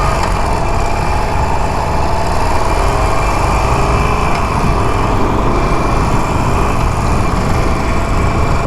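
A Harley Sportster 48 motorcycle engine runs steadily, a loud, continuous, close rumble that holds even throughout without any voices.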